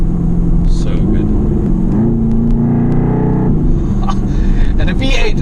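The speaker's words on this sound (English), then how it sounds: "And a V8, it sounds like a muscle car" Mercedes-AMG GT R Pro V8 engine revving loudly from inside the car, a deep rumble whose pitch rises and settles, with wind and road noise around it.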